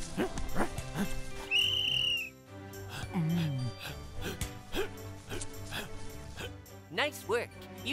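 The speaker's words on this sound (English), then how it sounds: "I'll signal another player to go through when I blow the whistle" A short, shrill whistle blast rings out early, standing apart from the surrounding speech and background noise.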